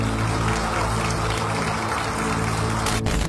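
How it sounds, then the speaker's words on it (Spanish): Applause inside a parliament chamber, a steady wash of many hands clapping at moderate loudness from across the hall, continuous for a few seconds with a low hum beneath. "Efectivamente, se oyen aplausos a Segundo Tapia y a Jenny Vilcatoma."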